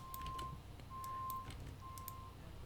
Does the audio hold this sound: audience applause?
no